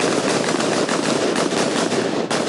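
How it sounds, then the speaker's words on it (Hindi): Dense, continuous gunfire rattles in rapid bursts from soldiers at shooting range practice. It is loud, steady and unbroken throughout, with no talking over it. "यहाँ देख सकते हैं हमारे पीछे अचानक से फायरिंग भी शुरू हो गई है"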